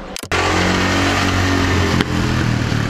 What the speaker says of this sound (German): Wir drehen gerade Werbespot für den neue Quad von BMW.